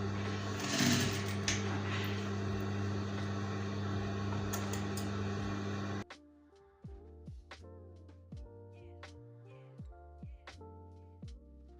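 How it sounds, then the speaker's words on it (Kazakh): A sewing machine stitches patchwork fabric with black thread, a steady close whirring hum for about six seconds before it stops and plucked melodic music takes over. "Сіздерге анық көріну үшін қара жіппен тігіп жатырмын."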